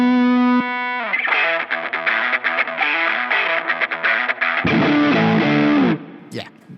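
Electric guitar run through a distortion rig with a mid-boosting, high-cutting filter pedal for a thin, honky tone: a sustained note, then a busy run of picked chords, close and loud, ending with a sharp scrape.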